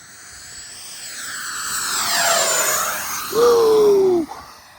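An AeroScout RC plane powered by a 64mm EDF jet flies past, a whooshing, whining ducted-fan sound that sweeps in pitch as it climbs, turns and passes, loud and close with no talking.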